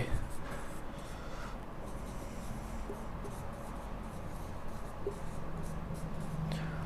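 Chalk or marker scratches steadily across a board as digits are written, a continuous soft scraping texture that runs throughout, with a teacher's voice faintly present.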